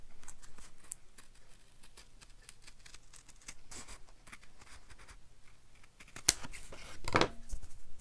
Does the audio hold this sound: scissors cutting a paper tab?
yes